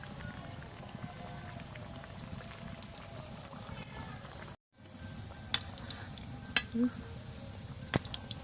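Chhena jalebi frying in oil, giving a soft, steady bubbling and sizzling throughout, with a brief dropout midway and a few light clicks and knocks afterward.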